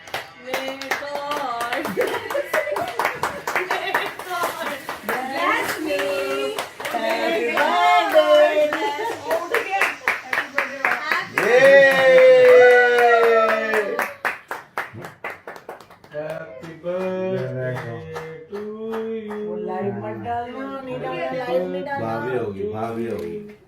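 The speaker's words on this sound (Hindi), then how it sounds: "तालियां." People clap along at a home birthday celebration, a run of sharp hand claps mixed in with voices singing and chatting loudly close by.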